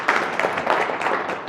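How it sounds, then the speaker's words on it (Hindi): An audience at a gathering gives a burst of applause for a speaker, a steady wash of many clapping hands lasting a second or two at moderate volume. "एक बार जोरदार तालियां सर के लिए।"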